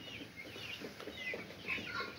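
Young backyard hens and an Aseel chicken clucking in a coop, soft clucks and faint chirps scattered through a short, quiet stretch with no talk.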